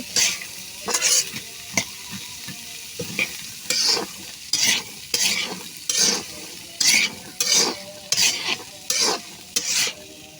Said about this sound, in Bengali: এখন হলুদের ভিতর কিছুক্ষণ বেজে নিব ছোলা আর সিদ্ধ আলুটা একটু নাড়াচাড়া করে ভালোভাবেই বাজবো